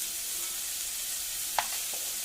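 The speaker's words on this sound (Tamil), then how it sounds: "போட்டுட்டு நல்லா கிளறி விட்டுடலாம்." Drumstick masala fry cooks in a pan with a steady, soft sizzle, broken by a brief scrape of a spoon stirring the pieces near the end.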